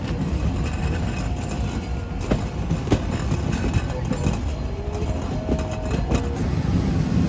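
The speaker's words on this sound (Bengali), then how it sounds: "এই মুহূর্তে আমাদের রূপসা এক্সপ্রেস প্রবেশ করছে মোবারকগঞ্জ স্টেশনের 2 নম্বর লাইনে।" Rupsha Express intercity train pulls into line 2 of Mobarakganj station, a steady rumbling roll with occasional rail clicks and squeals under a constant loud mechanical drone.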